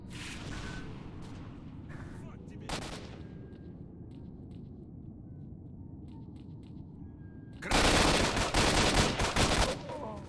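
Gunfire in the video game S.T.A.L.K.E.R.: Shadow of Chernobyl: several loud shots and short bursts, then a dense, sustained burst of automatic fire near the end, over a low rumbling game ambience.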